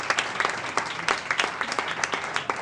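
A small studio audience claps for a team captain on a Spanish talk show, brisk, uneven hand claps with distinct individual slaps, close and lively.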